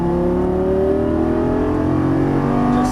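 Lamborghini Gallardo LP550 accelerating on a race track, a loud close engine note climbing steadily in pitch as it revs up through the gear, sustained and unbroken.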